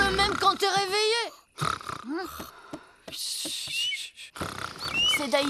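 A cartoon character snores loudly in French animated comedy, with rasping, roaring snorts and harmonic wheezes in bursts, broken by short pauses.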